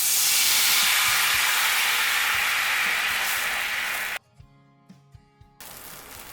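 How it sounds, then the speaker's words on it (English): A cup of red wine hits a hot pan on a medium burner where sausages were just browned, giving a loud, steady hiss of sizzle and steam for about four seconds before it cuts off abruptly, followed by faint clicks. "We're going to deglaze it with 1 cup of red wine."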